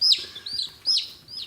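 Chickens held upside down cluck and chirp in short bursts, two or three soft calls spaced apart, close by against a quiet background.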